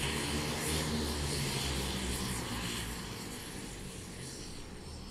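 Propeller airplane engine droning overhead at a skydiving drop zone, a loud continuous roar that slowly fades as it passes, with no speech.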